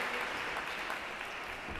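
Children at a teaching concert clap in a continuous, fairly faint wash of applause, brief and even throughout.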